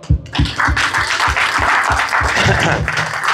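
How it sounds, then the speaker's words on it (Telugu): Audience clapping, men joining in, at an Indian gathering in Australia: steady, dense applause close by, with regular low thumps under the clapping throughout. "మగవాళ్ళు కూడా చప్పట్లు కొట్టినాయి"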